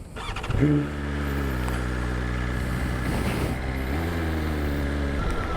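BMW M 1000 XR motorcycle engine under way, a smooth sustained drone that rises briefly near the start, then holds steady at a fairly quiet, even level with gentle shifts in pitch.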